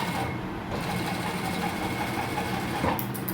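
A sewing machine runs steadily, stitching a shirt collar with a continuous whirring drone for the full length, close and alone with no talk.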